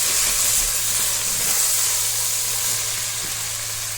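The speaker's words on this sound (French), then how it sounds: "je vais laisser mijoter quelques minutes avant de poursuivre" Ground meat simmers in a pan with a steady, loud sizzle and hiss that continues without pause throughout.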